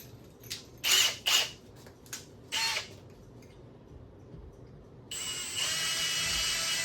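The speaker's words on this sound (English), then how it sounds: "Always have to drill these things out." Short bursts of a high-pitched drill whirring on and off while drilling out parts on a 1958 Triumph Tiger Cub motorcycle, followed by a steady, sustained drilling whine toward the end.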